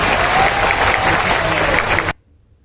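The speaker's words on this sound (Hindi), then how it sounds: "अब ताली कमलनाथ जी के लिए बजाओ" Crowd applauding at a Madhya Pradesh by-election rally, dense loud clapping sustained for about two seconds before cutting off abruptly into near silence.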